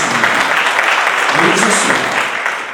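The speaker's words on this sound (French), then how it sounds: "Applaudissez pour Monsieur" Guests at a civil wedding ceremony clap for the groom, a broad wash of applause at moderate loudness with voices mixed in, tapering slightly toward the end.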